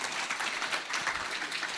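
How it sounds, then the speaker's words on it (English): An audience at a skincare product presentation claps briefly, a dense, even patter of many hands heard at moderate level without voices over it. "Just give them a little bit of clap"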